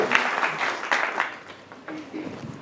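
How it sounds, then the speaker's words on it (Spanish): Audience applause at a book presentation for a volume on Pinochet-era Brazil, a warm burst of clapping from a seated crowd that swells and gradually thins out, with a few voices murmuring underneath. "un aplauso para Pablo y para Silvia"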